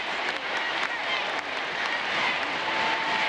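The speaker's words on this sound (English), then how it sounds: "A thunderous ovation from this crowd." Roaring crowd ovation at a 1999 women's World Cup soccer match between the United States and Nigeria, a dense, steady wash of applause and cheering from a huge stadium crowd with no pauses.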